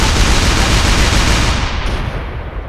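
A loud, dense burst of rapid gunfire from a video game rattles nonstop for about three seconds, close and continuous, trailing off slightly at the end.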